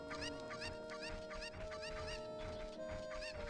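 Chicken clucking in The Legend of Zelda: Ocarina of Time, a series of short, repeated clucks over steady game music, close and moderately loud with no talking.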